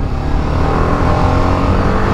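An RR 310 motorcycle accelerates hard in third gear, a loud close engine roar building steadily with no voices over it.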